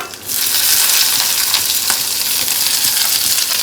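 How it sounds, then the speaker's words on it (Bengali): Onions frying with ginger and garlic in a pan give a loud, steady, close sizzle that runs without a break after a quick start, with faint stirring scrapes and no voices. "আদা রসুনটা হালকা ভেজে নিলাম এবার এর মধ্যে দিয়ে দেবো পেঁয়াজটা"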